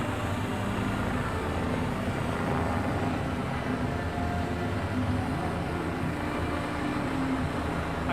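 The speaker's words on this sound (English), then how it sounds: "There's a police helicopter circling above us." A police helicopter circles overhead above an encampment, a steady droning rotor rumble that fills the whole stretch without pause, moderately loud and unbroken.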